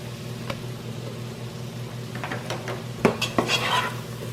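All-purpose flour is stirred into melted butter in a pot for a roux. A spoon scrapes and knocks against the pan in a quick burst of clatter near the end, over a soft steady hum, with no talking.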